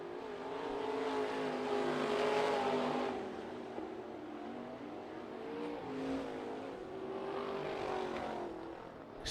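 Sprint cars race around Bubba Raceway Park, a pack of engines droning and swelling as they pass, heard from a distance with a broad, rumbling roar that rises and falls.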